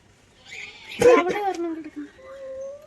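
A puppy whimpers with thin, rising whines near the end, following a short burst of nearby voices, at a children's park and exotic farm in Thiruvalla.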